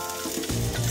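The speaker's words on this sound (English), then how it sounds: "A little bit of sizzle." Sliced onion strips hitting hot avocado oil in a pan, a short burst of sizzling frying that swells louder within a second, close and alone.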